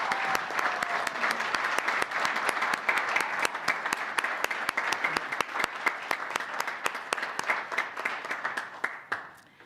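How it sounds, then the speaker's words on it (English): Applause at a Waukegan city council meeting honoring city workers: a steady, fairly loud burst of many people clapping in a rapid, even rhythm, thinning into scattered separate claps before stopping near the end. "I just want to give you a round of applause and thank you for the work"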